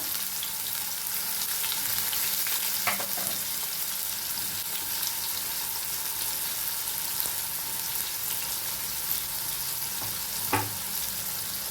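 Tomato and carrot fry in a pan with a steady close sizzle, while a spoon stirs them in occasional short scraping strokes.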